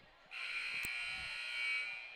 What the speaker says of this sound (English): there was the buzzer telling them to do the starting lineups